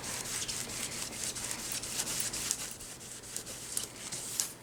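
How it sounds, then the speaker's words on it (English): Rubbing alcohol rubbed on residue on a Dollar Tree Christmas gift bag craft, heard as a quiet, close, continuous scrubbing hiss with small irregular strokes. "now I just have some rubbing alcohol, and it is coming right off"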